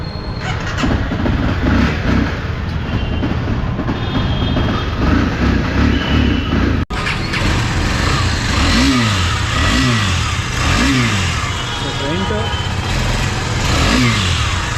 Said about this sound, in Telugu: అండ్ ఇంజన్ స్టార్ట్ చేస్తున్నా